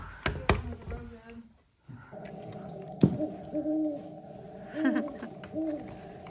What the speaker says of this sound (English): How about the owl?